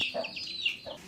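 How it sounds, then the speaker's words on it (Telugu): A hen clucks low and close while her two chicks peep in high, thin chirps in a village yard among mango trees, the calls overlapping in quick bursts. "ఇవైతే మా కోడి పిల్లలు"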